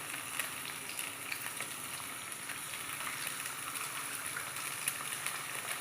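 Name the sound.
eggs frying with browned onions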